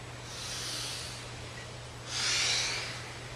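Two soft breaths, an inhale and then a longer audible exhale, come from someone doing a seated yoga twist in a quiet room, faint and close against a low hum.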